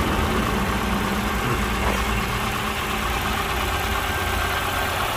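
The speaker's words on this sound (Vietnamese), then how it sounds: "Còn động cơ hoạt động rất là êm ái luôn" A 2010 Hyundai Getz engine idles steadily and smoothly under the bonnet, a continuous even hum with broadband noise and no pauses, recorded close with no talking.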